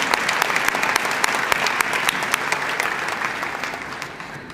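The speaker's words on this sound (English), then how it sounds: "Another round of applause for everyone who made tonight possible." Audience applause at a women-of-influence awards ceremony honoring arts and education figures, a steady dense wash of many hands clapping with sharp individual claps standing out, gradually thinning toward the end.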